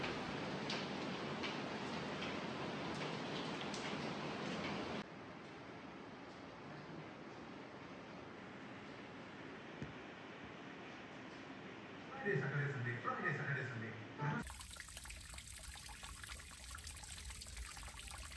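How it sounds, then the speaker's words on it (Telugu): Rain falling into a courtyard with water trickling and dripping down from leaks in the slab roof, a steady faint patter with brief louder spatters. "వర్షం పడ్డప్పుడు ఇట్లా చూస్తూ ఉంటే మనకి వర్షం పడేది కనపడుతుంటుంది"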